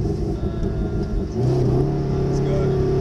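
Mercedes SLS AMG engine on a track driving experience, launched from a brake start and held at full power, a loud steady rumble that rises in pitch and intensity partway through, with voices underneath.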